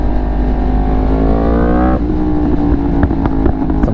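A motorcycle engine revs, its pitch climbing steadily before dropping off, then crackles with a burst of sharp exhaust pops. It sounds loud and close, with no one talking.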